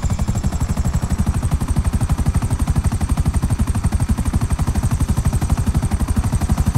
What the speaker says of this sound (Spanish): qué complicado este helicóptero, men.